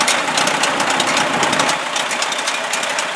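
Close, loud chugging of an old tractor engine idling at a country fair, its beat steady and slightly uneven, with no voices.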